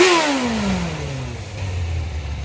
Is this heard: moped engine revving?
yes